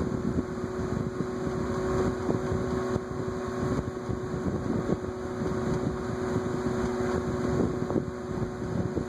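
A Vornado twin window fan blows hard, a steady loud whoosh of rushing air with a constant motor hum, close and unbroken.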